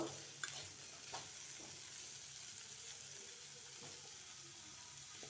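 Pumpkin pieces frying in oil in a pan, a soft steady sizzle with a few brief stirring scrapes near the start, quiet and close with no talking.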